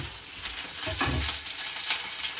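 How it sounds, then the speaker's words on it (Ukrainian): Food sizzles and crackles steadily in a hot pan, close and continuous, with mushrooms and rice being cooked as part of preparing stuffed cabbage rolls. "шкварчі"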